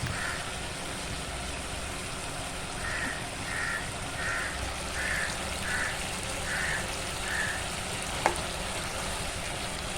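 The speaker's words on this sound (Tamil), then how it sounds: "அடுத்து அதே பேன்லேயே கொஞ்சம் பட்டை, லவங்கம், 2 ஏலக்காய், 1 லவங்கம் போட்டு தாளிச்சிக்கிறேன்." Cinnamon, cloves and cardamom tempering in a pan for a methi chicken, with a faint, steady sizzle and a single sharp tap near the end. A repeated cawing call, probably a crow, is heard from outside.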